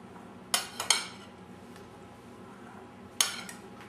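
Fruit salad of mango, kiwi, oranges and raspberries being mixed in a bowl, giving a few scattered clinks and scrapes of utensils against the dish, with quiet pauses between.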